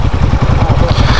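A Kawasaki KLR 650 motorcycle engine runs close by on the road from Ensenada to San Quintin, a loud, steady, rapid thumping pulse with no talk.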